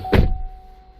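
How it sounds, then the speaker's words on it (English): A single solid thunk, close by, as a 2014 Cadillac XTS door swings shut, followed by a short fading rumble and a faint steady hum. "Alright, close the door"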